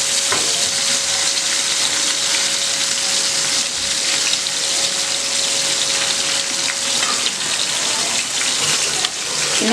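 Fish fry for meen kulambu crackles loudly in hot oil in a pan while the pieces are turned. The sizzle is steady, close and dense, with no talking over it.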